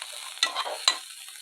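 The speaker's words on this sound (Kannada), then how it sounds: "ಲವಂಗ ಏಲಕ್ಕಿ, ಸ್ವಲ್ಪ ಎಣ್ಣೆ ಹಾಕ್ತಾ ಇದ್ದೀನಿ. ಹುರ್ಕೊಳ್ತಾ ಇದ್ದೀನಿ." Garlic, ginger, cloves and cardamom roasting in a little oil, with a continuous soft sizzle and two brief stirring scrapes near the start and middle, close and moderately loud with no talking.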